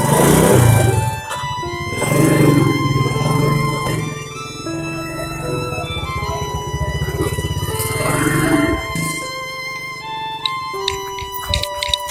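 Motorcycle engine laboring uphill, a loud close drone that holds and shifts pitch as the bike climbs, mixed with clattering, and people talking over it.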